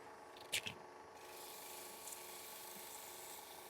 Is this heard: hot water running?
no